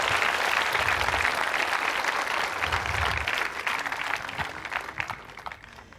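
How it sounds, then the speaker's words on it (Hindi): Audience of a quiz show at a women's engineering college in Ajmer claps loudly and densely for several seconds, then the applause thins and fades toward the end. "तालियां जोरों से बजनी चाहिए"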